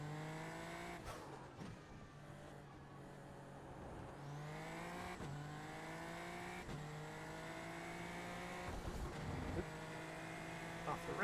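A race car engine in a racing video game, bouncing off the rev limiter with a loud, steady buzzing drone that is cut by repeated brief stutters, all sounding close.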